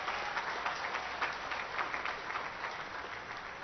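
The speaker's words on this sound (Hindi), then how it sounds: "चलो तालियों की गड़गड़ाहट से।" Rally crowd in Vikarabad clapping together in a steady, dense wash of applause that holds at an even level throughout, with no voices standing out above it.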